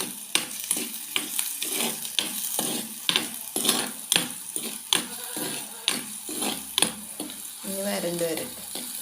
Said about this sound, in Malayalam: കൊച്ചുള്ളിയും വെളുത്തുള്ളി ഇട്ട് കൊടുത്തിട്ടുണ്ട്. ഇനി നല്ലപോലെ ഒന്ന് വരണ്ട് വരട്ടെ.